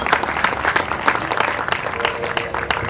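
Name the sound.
audience applause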